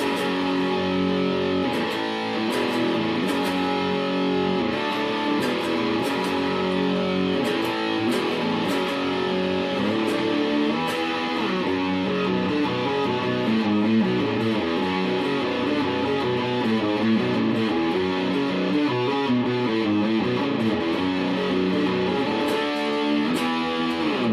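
An electric guitar plays chunky, metal-style riffs through the distortion channel of an Orange Crush CR120c 2x12 combo amp. Driven chords and palm-muted chugs repeat steadily for over twenty seconds at a consistent level, with no talking.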